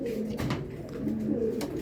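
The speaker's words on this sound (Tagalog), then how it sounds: "ibon dito sa Las Piñas" Pigeons at a racing loft in Las Piñas coo continuously and close by, low soft rolling calls overlapping one another against a constant background hum, with no talk.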